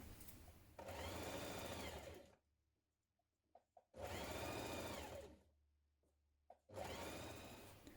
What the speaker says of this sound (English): you're going to stitch that in place again with a 1 centimetre seam